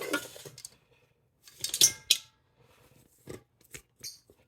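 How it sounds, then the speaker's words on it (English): Spatula scraping cookie batter out of one mixing bowl into another, gluten-free chocolate chip dough, heard as a few short bright scrapes and clinks in separate bursts with quiet gaps between them. "we're going to take the batter out of the bowl. We're going to transfer it into another one"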